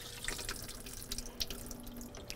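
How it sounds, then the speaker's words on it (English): Water drains steadily from the pan of an under-counter ice maker with its cap removed, a close, continuous trickle and splash with small drips throughout. "allowing it to completely drain"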